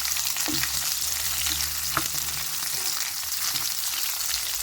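Beef frying in a pan on low heat gives a steady, close, hissing sizzle with occasional light stirring clicks and a low hum underneath, and no voices.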